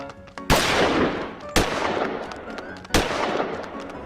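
Three loud pistol shots ring out at roughly one-second intervals in a radio play chase scene, each sharp crack trailing off into a rumbling background of moving vehicles.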